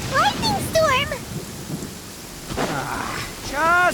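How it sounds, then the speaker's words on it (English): Thunderstorm with steady rain hiss and low rumbling thunder in Genshin Impact, with a voice speaking over the storm at the start and end. "Lightning storm!"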